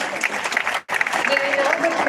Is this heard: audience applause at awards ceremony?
yes